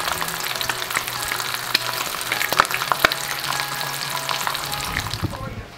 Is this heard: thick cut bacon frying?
yes